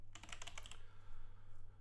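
Fast keystrokes tap on a computer keyboard in a short burst of about a dozen clicks, then stop, leaving a faint steady hum.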